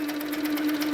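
A sewing machine stitching around a fabric join with grey thread, running at a steady fast rhythm of rapid needle strokes, close and continuous with a constant motor whine.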